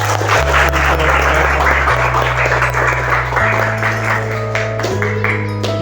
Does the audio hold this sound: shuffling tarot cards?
no